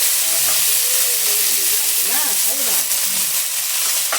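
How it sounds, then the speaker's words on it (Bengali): Sour spinach leaves go into a hot wok and set off a loud, steady, close sizzling hiss, with a faint voice speaking underneath. "সেইগুলো এখন আমি দিয়ে দিব কড়াইয়ের মধ্যে"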